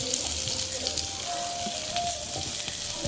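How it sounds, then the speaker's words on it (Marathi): Onion frying in a pan for a Maharashtrian masvadi curry, sizzling in a steady, moderately loud hiss, with faint clinks and stirring noises mixed in. "चला आपण कांदा हा फ्राय करून घेऊया"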